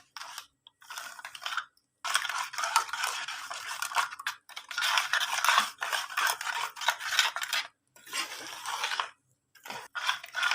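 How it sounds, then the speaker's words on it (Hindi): Sugar, eggs and cooking oil are being whisked together in a bowl, with brisk scraping and clinking strokes coming in bursts and broken by short pauses. "चीनी, अंडे, ऑयल को अच्छी तरह मिक्स कर लेना है।"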